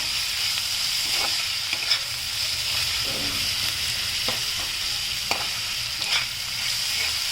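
Spiced potato palya, hotel style for masala dosa, is stirred and mixed in a pan over a soft, continuous sizzle, with a few sharper scraping strokes of the spoon scattered through; no one speaks.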